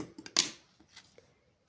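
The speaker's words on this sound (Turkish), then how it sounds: "Ve çiçeğimin ipini kesiyorum." Scissors snip the thread of a needle-lace flower on a headscarf edging, a few crisp close metallic clicks with one sharp louder cut, then quiet.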